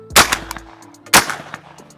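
Two loud, close shotgun blasts spaced about a second apart from a Retay Gordion semi-automatic shotgun firing Federal Prairie Storm 3-inch, 1.25-ounce pheasant loads outdoors, each sharp report followed by a brief decay.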